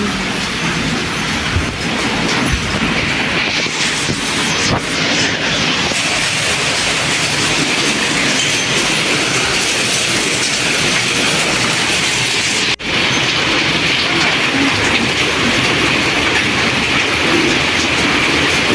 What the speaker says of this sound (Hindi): इतनी तेज बारिश शुरू हो गई है।